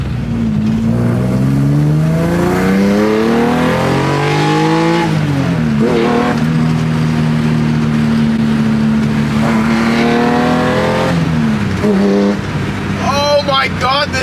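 BMW E30 with a swapped S54 engine revving loudly up and down in repeated sweeping pulls, a close, sustained roar that climbs and falls several times.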